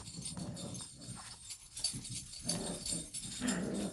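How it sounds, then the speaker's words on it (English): Dogs whimper and yip intermittently in the background, with short scattered bursts and restless shuffling noise throughout. "I am so sorry about the dogs in the background"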